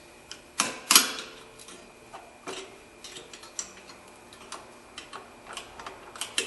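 A screwdriver turns the brake star adjuster on a 2005 Honda, producing a series of small, close, irregular metallic clicks and ticks, a few louder than the rest, with no voices.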